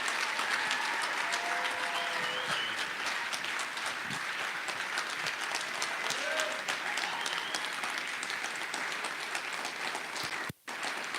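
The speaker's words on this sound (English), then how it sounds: "give him a big thunderous round of applause" A large audience at an awards and recognition event breaks into sustained, thunderous applause welcoming a speaker to the stage, dense and even across the whole stretch, with a brief dropout near the end.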